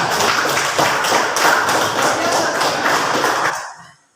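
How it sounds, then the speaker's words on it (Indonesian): A group of children clapping for a classmate named Cika in a Catholic religious education class, a dense, steady patter of many hands lasting a few seconds before fading out abruptly. "tepuk tangan untuk Cika"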